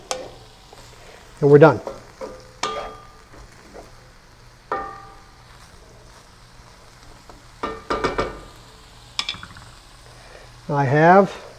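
Ground turkey stuffed pepper filling of vegetables being stirred into white wine in a sizzling pan: bursts of scraping and spoon-on-pan clinks over a soft fry, with a brief spoken remark.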